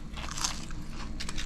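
Close, crisp crunch of teeth biting into a hot fried fish tail from a catch-and-cook meal of bluegill, a short dense crackle with no talking.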